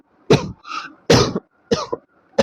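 A man coughs several times in short, loud bursts with brief gaps, the harsh coughs standing alone and close.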